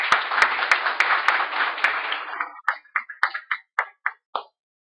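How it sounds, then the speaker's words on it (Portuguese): Audience applause at a business lunch event, a burst of crowd clapping that fades out and gives way to a handful of scattered, separate claps at close range. "Salva de palmas para nós todos."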